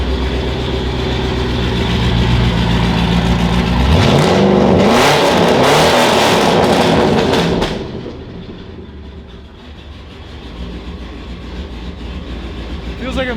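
A C5 Corvette V8 with a possible misfire and worn motor mounts revs hard from idle, climbing to a loud, rough roar before dropping back to a lumpy idle, with voices in the background.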